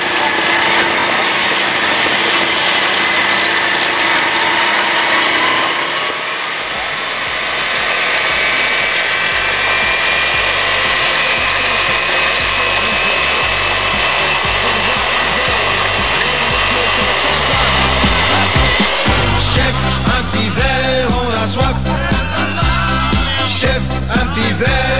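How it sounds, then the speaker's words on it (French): Off-road buggy engine during a champagne raid in the Ardennes, a loud, steady high-pitched whine running throughout with rattling, pulsing vibration growing stronger toward the end, no voices. "C'est parti, notre première en buggy."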